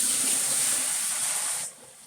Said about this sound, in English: I'm going to set that down while I put water in here